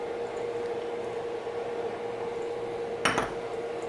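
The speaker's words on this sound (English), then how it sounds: "So I'm going to add my frozen corn." Frozen corn drops into a pot of thick, plant-based weeknight chili that has been simmering for about 45 minutes, giving one brief clattering rattle near the end over a steady low kitchen hum.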